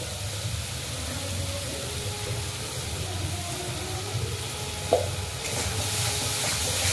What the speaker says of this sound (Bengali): এবার ভালো করে আমরা মশলাটাকে কষিয়ে নেবো।